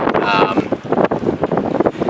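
Strong wind buffets a microphone outdoors on a Southern California fishing spot, a loud broadband rumble throughout with a voice talking faintly under it.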